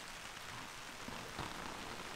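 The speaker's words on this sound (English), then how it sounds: "it's nice when it's raining just to listen to the rain" Rain falls steadily on a camping tent, an MSR Hubba Hubba NX 2, making a dense, close patter of drops on the fabric with a few slightly louder taps and no talking.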